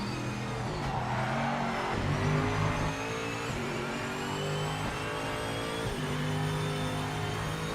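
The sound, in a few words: GTE race car engine in video game Project Motor Racing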